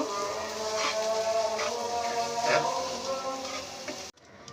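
Chopped onions sizzle steadily in hot oil with scraping stirs and a clatter, the frying loud and continuous until it cuts off near the end.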